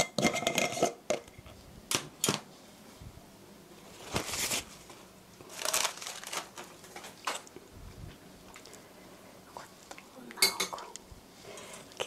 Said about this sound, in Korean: 이렇게 해서 먼저 섞어주세요.